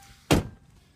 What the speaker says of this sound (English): Locking fuel door.